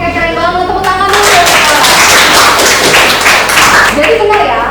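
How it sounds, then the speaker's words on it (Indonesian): Classroom applause from a group of students, a dense burst of hand clapping that swells after the first second and stays loud and steady, with voices mixed underneath. "Tepuk tangan dulu"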